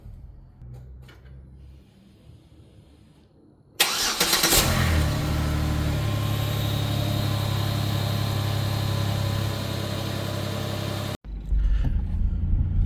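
A car engine cranks and catches after a few seconds of quiet shuffling, then idles loudly with a steady low rumble for several seconds before a door thuds shut near the end.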